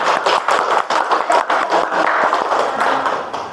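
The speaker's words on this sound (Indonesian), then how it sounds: "Tepuk tangan." A classroom audience claps hands in a dense burst of applause. The sound is close and fairly loud and stays steady throughout without pause.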